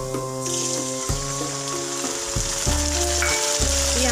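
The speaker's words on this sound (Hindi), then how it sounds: "प्याज को हम थोड़ा सा सुनहरा रंग आने तक चला लेंगे।" Chopped onions frying in a pan for a cabbage sabji, a steady close sizzle with bright crackle and a low tonal hum running underneath throughout.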